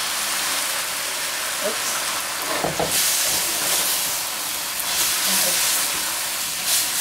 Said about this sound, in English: And then I'm gonna put in another 4 cup of the sauce that we just made.